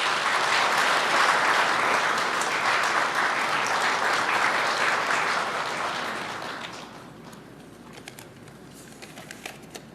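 Audience applause at a Labor Day commemoration ceremony in Korea, a loud sustained wash of clapping that fades away after about six seconds, leaving a quiet room with a few scattered claps.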